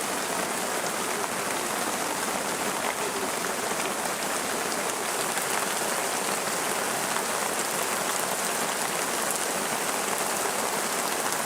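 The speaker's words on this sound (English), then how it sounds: "a downpour unexpectedly occurs" Heavy rain pours steadily and loudly in a Bolivian palm forest, a dense hiss of countless drops striking leaves and ground with no letup throughout.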